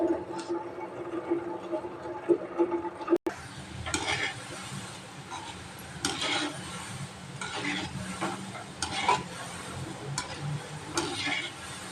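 Gulab jamun fry in hot oil in a pan while being stirred, a continuous bubbling sizzle with repeated scraping stir strokes; quieter at first, then a louder, busier fry after a sharp knock.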